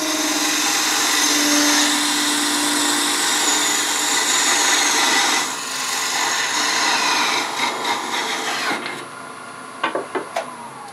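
Wood turns on a lathe as a thin parting tool cuts it off with a loud, steady scraping whine that fades out, followed by a few knocks and taps.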